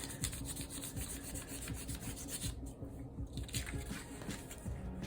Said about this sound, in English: it's easier to use more surface area to rub and get the texture of the leaf